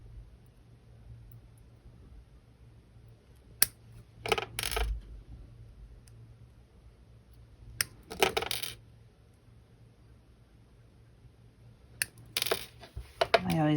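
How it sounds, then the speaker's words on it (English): Wire cutters snipping coiled wire jump rings from a coil in a few separate bursts of sharp clicks and metallic snaps, close up, with quiet gaps between. "I already have some coiled jump rings that I can just cut off"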